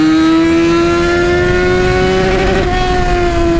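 A Yamaha XJ6 motorcycle fitted with a new aftermarket exhaust revs loudly and steadily close by, its deep engine note holding and then rising sharply near the end, with no talking.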